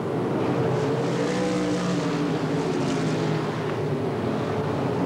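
Race cars roar around the Ascot track in Gardena in 1984, a continuous loud blend of engine drones with overlapping tones that rise and fall as the cars chase each other past.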